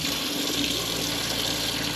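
Water pours steadily from an RV tap in a strong, even stream, close by and continuous with no breaks.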